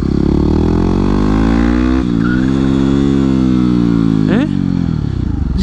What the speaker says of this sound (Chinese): 机声越来越大声了